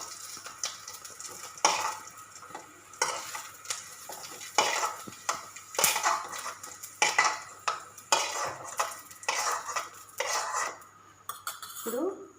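Gongura leaves fry in a kadai while a metal spoon repeatedly scrapes and clinks against the pan in an uneven rhythm, close and fairly loud, with a faint sizzle underneath and no talking.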